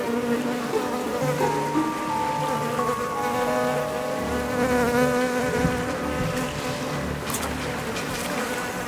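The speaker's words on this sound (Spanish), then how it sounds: "Las moscas que atrae su carroña son como un buffet libre para el insectívoro." Flies swarm around carrion, a dense continuous buzzing of many insects close by, wings droning at shifting pitches with no pauses throughout.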